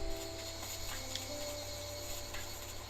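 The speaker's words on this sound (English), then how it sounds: "I hear that that cicada" A cicada in the game Dinkum gives a faint, steady pulsing buzz beneath soft ambient game sound, continuous and distant with no voices.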